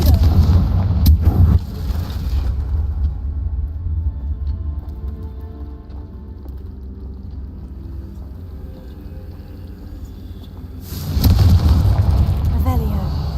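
Confringo fire spell blasts from Hogwarts Legacy, loud explosive bursts at the start and end framing a quieter rumbling stretch of game sound.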